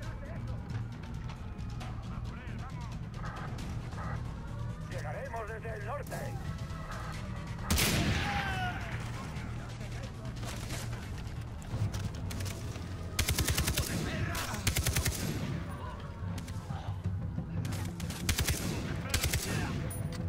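Gunfire and grenade blasts in Far Cry 3, steady rattling bursts of automatic fire with sudden louder explosive cracks scattered throughout, heard over a constant game background, with someone talking over the action.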